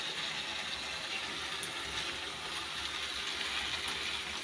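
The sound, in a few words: hot water poured onto jaggery for chutney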